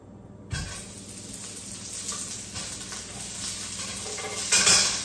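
Sliced onion drops into a hot pan for Malvani chicken and sizzles loudly, with steady frying hiss and occasional clinks of a utensil stirring against the pan, rising to a brief louder burst near the end.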